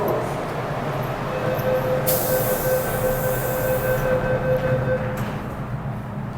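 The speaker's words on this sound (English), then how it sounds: "Now to check out the numbers when the train drives through." A metro train rumbles steadily through a station in Hong Kong, close and loud, with a high squealing whine from the wheels and a sudden burst of hissing partway through.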